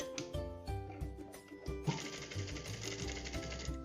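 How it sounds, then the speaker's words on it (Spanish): Domestic sewing machine stitching a second parallel seam on a pocket, a rapid mechanical whir in repeated bursts with brief pauses between runs, close and moderately loud. "me va diciendo por dónde voy cosiendo el segundo para que el pespunte se vea bien parejito"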